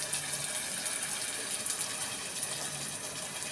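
Water is poured into a pot of boiled chana dal with bottle gourd, a steady, continuous splashing gush that stays fairly even in loudness from start to finish.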